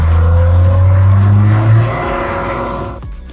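A car engine held at high, steady revs during a transmission hydraulic pressure test, loud and close, then easing off and dropping in pitch as the revs fall away near the end.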